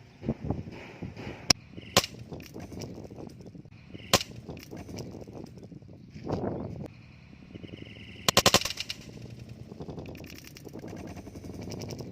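Blank-firing revolver loaded with number-one CO2 cartridges shooting at a water-filled bottle: a few sharp, loud cracks stand apart from one another, with clicking and handling noise between shots and no talk.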